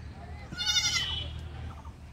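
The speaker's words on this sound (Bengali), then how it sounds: "ওই যে ওদের মা দূরে মাকে দেখে ডাকছে, ম্যা ম্যা।" A young goat lets out one clear, wavering bleat calling for its mother, fairly close, over quiet farm background with soft murmuring voices.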